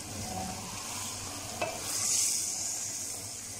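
A pan of chicken and pumpkin curry is stirred over heat, with a steady low sizzle, one sharp scrape of the spoon near the middle, and a brief swell of frying hiss afterward, close and moderately loud.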